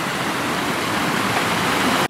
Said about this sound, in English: Mostly it's got this creek running through.